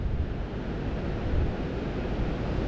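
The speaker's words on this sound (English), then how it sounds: "this wind is crazy here today" Strong wind buffets the microphone at a lakeside bank during a fishing outing, a steady loud roar and rumble with no pauses throughout.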